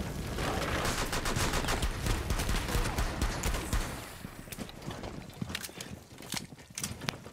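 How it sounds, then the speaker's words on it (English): Gunfire in a video game fight: a dense, continuous burst of rapid shots for about four seconds, then thinning into scattered, separate shots. "It looks like a gunfight."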